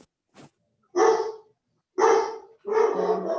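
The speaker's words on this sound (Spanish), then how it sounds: "disculpen a los perritos" Dogs at home bark close by: a short yip and then three loud, sharp barks separated by brief pauses.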